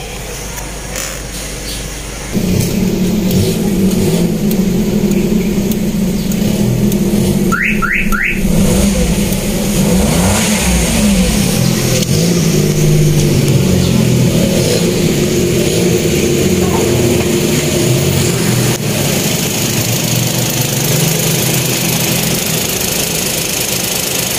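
A Toyota car engine after an oil change starts up and settles into a loud, steady run with some revving, heard close with no talking.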